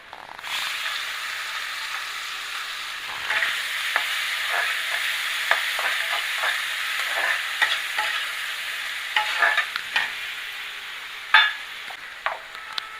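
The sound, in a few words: chopped onions frying in a pan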